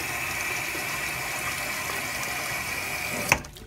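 Hot water from a tap pours steadily into a baby bath, a constant close rush that ends with a sharp clack as the flow stops near the end.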